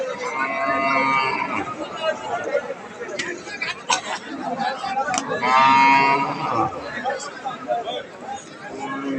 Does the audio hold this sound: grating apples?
no